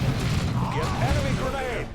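A grenade blast and gunfire in the strategy game Dawn of War 2, a rumbling low boom under layered battle noise, with voiced unit chatter and talk over it.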